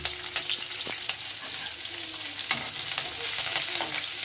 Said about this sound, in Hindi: अब इसी जगह पे हम लहसुन और हरी मिर्च जो हमने बारीक कट कर ली है उसे भी डाल देंगे।